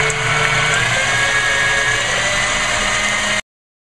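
An electric mixer whips egg whites at full speed, a loud, steady motor whine running close and unbroken for over three seconds before cutting off abruptly, with no talking.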